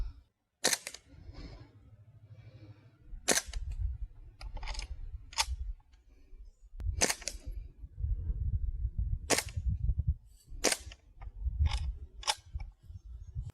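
A Springfield Armory M1 Carbine BB gun fires at targets in a string of about eight sharp, loud cracks spaced irregularly a second or two apart, with low mechanical handling noise in between and no voices.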